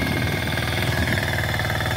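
A Yanmar rotary tiller fitted with 24 blades churns soil into a fine tilth, its engine chugging with a hard, steady rapid knock, loud and close, and nobody speaking.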